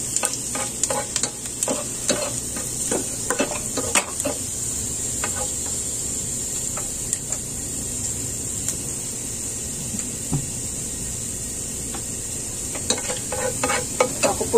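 Ginger fries and browns in a pan of oil for chicken pineapple, with a constant bright sizzle under frequent sharp scrapes and taps of a spatula stirring, busier at the start and end.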